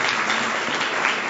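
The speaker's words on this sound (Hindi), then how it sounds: "बच्चे के लिए जोरदार तालियां एक बार।" Parents and children at a seminar give a child a brief burst of energetic clapping, dense and close throughout.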